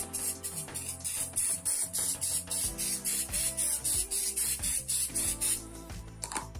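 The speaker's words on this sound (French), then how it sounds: "on va passer à la deuxième méthode qui n'est autre que l'amidon. Voilà, donc on le secoue bien, on va vaporiser en fait par petites touches" Starch spritzed from a spray bottle onto macramé cord, a regular series of about a dozen short, close hissing bursts in a steady rhythm over faint background music.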